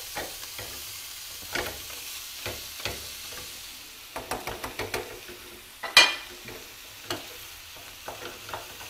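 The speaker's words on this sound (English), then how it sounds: "We need to beat the meat and crush it down with the onion, like this way, so that it doesn't stay into lumps" Ground meat and onion are pressed and stirred in a hot pan for Lebanese kebbe bissaniyeh, with a soft sizzle under repeated scraping and clacking strokes of a utensil, one sharp knock standing out.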